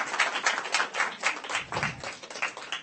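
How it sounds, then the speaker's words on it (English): Audience applause at a software development talk, a short burst of fairly quiet, steady clapping from a crowd lasting a few seconds. "Let's give her a round of applause"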